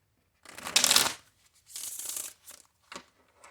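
Tarot cards are shuffled in quick riffling bursts, a long crisp riffle followed by a shorter one and a few soft taps, close up.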